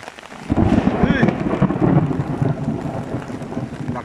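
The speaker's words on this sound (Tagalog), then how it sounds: "Lakas ng kulog guys. Narinig nyo ba?" A loud rumble of thunder rolls in after a brief quiet moment and lingers, with steady rain hissing underneath.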